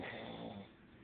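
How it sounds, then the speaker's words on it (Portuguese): A man snores loudly in his sleep, a single drawn-out rasping snore that tapers off toward the end, close by and with no talk over it. "Tá pirando só no ronco do cara."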